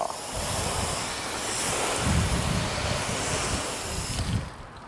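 A water hose rinses a car with a cheap ceramic coating, giving a continuous broad rushing spray that swells and eases, close and fairly loud.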